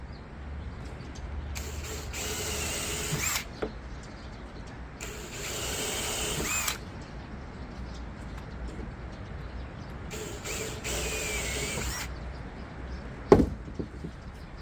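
Drilling holes in a BMW 6GT door panel for speakers, with three bursts of high whining drill noise separated by quieter gaps, plus a sharp click near the end.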